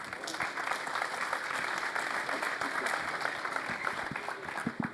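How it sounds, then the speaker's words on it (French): An audience at a talk applauds in a steady, even wash of clapping, fairly faint and without voices. "On peut applaudir."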